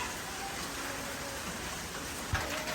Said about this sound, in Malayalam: മഴ വീണ്ടും സ്റ്റാർട്ട് ചെയ്യുന്നു